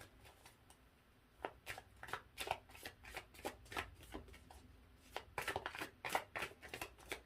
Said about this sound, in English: I'm shuffling tarot right now.